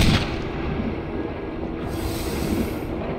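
Gunfire from the Resident Evil remastered game in a courtyard fight, a heavy booming blast at the start followed by a dense, rumbling low roar that continues loudly throughout.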